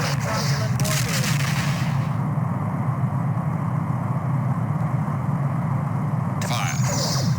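Starship weapons firing against a Romulan warbird in the Star Trek: The Next Generation video game, a loud, dense, continuous roar of energy fire with a rumbling low end.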